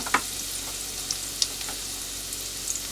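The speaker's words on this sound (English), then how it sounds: "browning the garlic a little bit first" Garlic browns in a pan for chicken primavera, a steady, fairly quiet frying hiss broken by a few sharp little pops, with no voices.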